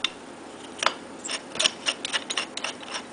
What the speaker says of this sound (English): Keep on screwing it all the way down